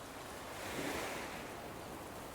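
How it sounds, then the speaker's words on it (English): Waves breaking on a shore in Animal Crossing: New Horizons, a soft continuous wash of surf that swells briefly and then eases, heard alone at a gentle, moderate level. "The waves breaking as the wind chases them ashore?"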